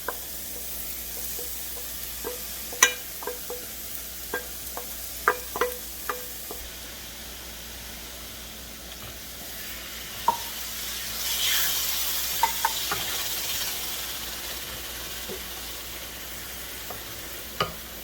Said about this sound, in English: And now I'm going to add the lentils to the pan.